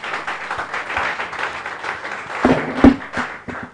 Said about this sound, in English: Thank you so much. A round of applause for DeepQuest AI,